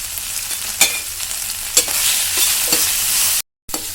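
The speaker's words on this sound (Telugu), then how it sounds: "రెండు వేసి వేయించుకుందాం" Coriander and mint leaves fry with turmeric in a pan for mint chutney: a loud, close sizzle broken by a spatula scraping and stirring roughly once a second, then a brief silence.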